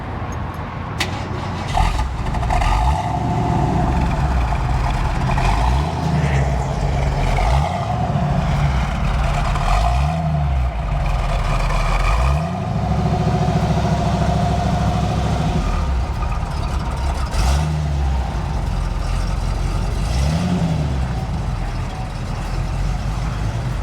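A 1969 Ford Mustang Mach 1 with a 351 V8 turns over and settles into a rumbling idle, punctuated by a series of short throttle blips that rise and fall, loud and close, with no talk.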